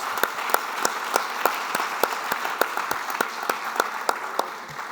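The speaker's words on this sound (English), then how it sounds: "Give him a welcome applause." Applause for a certificate recipient at a general council meeting: a small audience claps steadily in a dense patter of sharp, close claps for about five seconds, with no talking over it.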